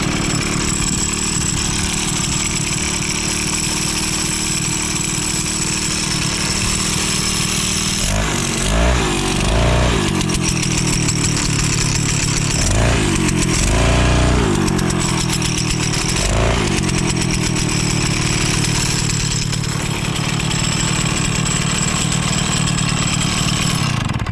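A 1970s Chrysler Sno-Runner snow bike engine runs loudly and close throughout, a steady buzzing two-stroke drone with a few brief changes in pitch partway through.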